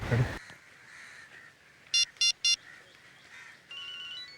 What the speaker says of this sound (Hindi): इसी बैग में से मोबाइल की आवाज आ रही है सर।